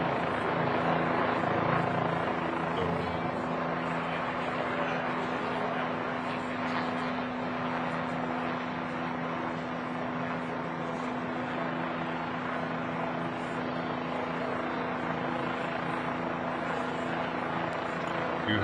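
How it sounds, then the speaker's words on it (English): A helicopter flies overhead during a county shooting and chase press conference, its rotor thrum a loud, unbroken drone that holds steady for the whole stretch. "Go away, helicopter. It's bugging me."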